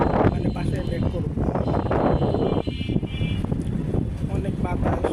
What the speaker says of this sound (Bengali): অনেক বাতাস, নিশ্চয়ই আপনারা ভিডিওর মধ্যে শব্দ পাইতেছে।